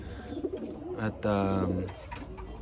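A Gerard Koopman racing pigeon in a loft coos once, a short low throaty burst partway through, faint and close, with brief talking and background rustle around it.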